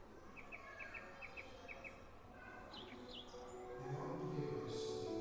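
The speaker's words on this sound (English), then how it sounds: "Birdsong can be heard from speakers." Birdsong played from speakers in a museum gallery on Northumbria's wildlife, faint repeated chirps and short tweets over a low room hum.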